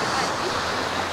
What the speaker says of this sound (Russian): Ох, как там волны у нас красиво прыгают.